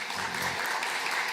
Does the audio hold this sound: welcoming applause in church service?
yes